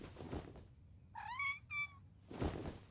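A cartoon kitten from Polly Pocket gives two quick, rising meows close up, set between soft background rustles, with no speech.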